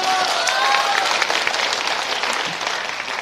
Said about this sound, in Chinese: 谢谢各位的掌声啊。